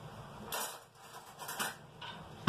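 Metal spoons and cutlery clinking and rattling together in a kitchen while dinner is prepared, a few close light clatters with a sharper clank at the end.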